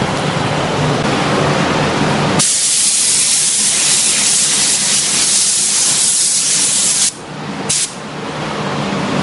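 Spray gun laying down a low-pressure water-based base coat, a loud steady hiss of paint mist that starts abruptly, runs continuously for several seconds, then cuts out briefly and resumes.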